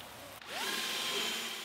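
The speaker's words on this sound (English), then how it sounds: "I then went in with a drill brush and repeated that process of agitating and then extracting" Rotary drill brush whirring as it scrubs the muddy fabric interior of a VW Golf during a deep clean, a steady close motor whine that rises in pitch and holds.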